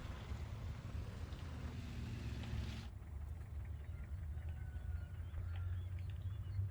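A vehicle engine rumbles steadily nearby in a military shooter game, a low continuous drone that persists under a brief higher whine and then a darker, wind-like background.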